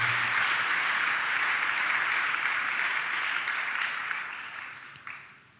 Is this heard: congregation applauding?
yes